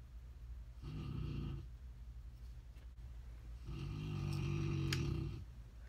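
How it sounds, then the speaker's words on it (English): A pet snores softly nearby in two long, drawn-out breaths, each a low rumbling snore separated by a quiet pause, with no other sounds. "He's just snoring away in here."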